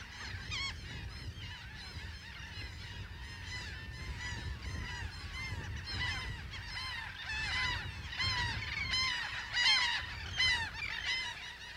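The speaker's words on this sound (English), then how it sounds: "These laughing gulls are engaged in a courtship behavior" Colony of laughing gulls calling during courtship on the Texas coast, a dense chorus of many overlapping, nasal calls rising and falling continuously for the whole span, moderately loud and without speech.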